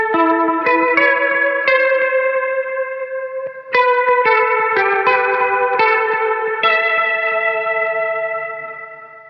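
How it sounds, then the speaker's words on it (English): An electric guitar through a Fractal FX8 plays a slow melodic line with lush stereo echoing repeats and a wide reverb wash, notes overlapping and trailing off gently. "And then I've got stereo,"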